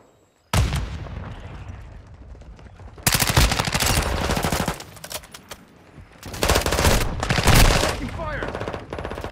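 Gunfire in Call of Duty: Modern Warfare II: a loud opening shot, then long dense bursts of rapid automatic fire that come near and heavy, pause briefly and resume, with no speech over them.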